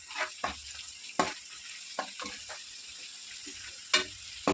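Onions with turmeric fry in a pan, a soft steady sizzle broken by several scraping stirs and clinks of a spoon against the pan, with no voices.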